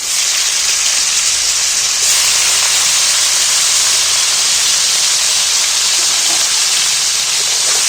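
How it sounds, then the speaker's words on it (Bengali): Cauliflower pieces drop into hot leftover oil in a pan and set off a loud, steady, continuous hiss of frying that swells a little after the first couple of seconds. No one speaks. "বাকি তেলের উপরে কপিগুলো তুলে দিচ্ছি"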